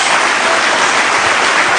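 Dense, loud applause fills a church congregation's worship service, a continuous wash of clapping hands with no voices standing out.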